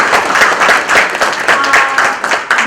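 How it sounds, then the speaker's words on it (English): Loud, close applause from a workshop audience at a closing ceremony, dense clapping with a rhythmic pulse running throughout. "But a big applause for"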